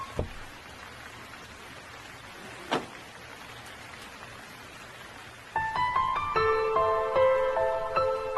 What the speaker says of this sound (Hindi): ये मुंबई की बारिश है, इतनी जल्दी बंद नहीं होगी